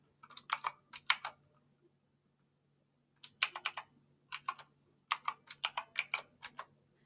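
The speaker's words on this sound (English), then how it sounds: "just type the SSH password" Keystrokes on a computer keyboard entering an SSH password for a Fedora Linux machine, fast bursts of clicky taps in several short runs separated by pauses, close and clear with no voices.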